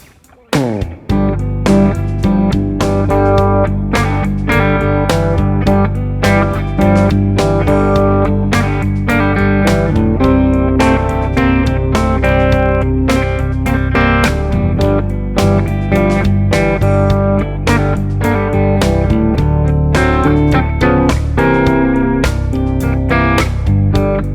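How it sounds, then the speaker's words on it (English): A lively country rock blues riff on electric guitar, played loud and up close with a bright, slightly driven tone, repeating phrases and no talking. "today's topic is a country rock blues riff"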